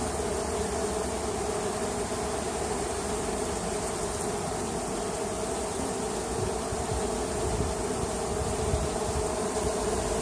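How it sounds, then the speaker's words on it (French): A swarm of small mixed-breed honeybees hums around a hive while they swarm and are being collected, a dense, steady buzzing that stays close and unbroken for ten seconds with no voices. "C'est des abeilles assez petites en fait."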